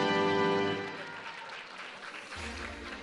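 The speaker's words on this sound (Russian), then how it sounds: "Еще раз, друзья, ваши аплодисменты." An audience applauds at the Miss Republic of Sakha (Yakutia) 2015 beauty pageant as a runner-up is honoured. The clapping begins loud over a fading musical tone and then thins out to a softer patter.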